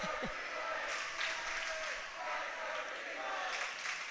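Boys' swim meet spectators and both teams clapping in unison at the finish, sustained loud applause with crowd noise echoing around an indoor pool.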